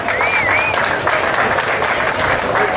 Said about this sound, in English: How about some applause on that?